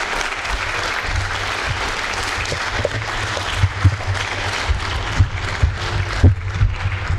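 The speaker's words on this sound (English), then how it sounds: "Hey, real quick round of applause," Audience applause fills a room at a US Navy retirement ceremony, steady clapping of moderate loudness with a low rumble underneath and a few sharper claps standing out.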